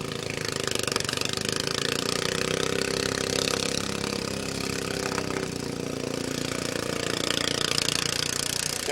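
A tractor engine at a demolition derby runs loud and continuous, a dense rough mechanical roar that holds steady throughout amid crowd-level background noise.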